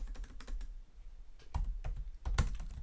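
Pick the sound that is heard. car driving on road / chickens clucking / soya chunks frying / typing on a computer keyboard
typing on a computer keyboard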